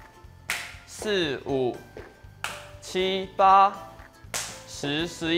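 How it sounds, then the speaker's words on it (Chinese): In a counting exercise, single sharp hand claps replace every multiple of three: three crisp, close claps land in the gaps between a voice counting numbers aloud in Chinese. "在3的倍数以拍手代替声音"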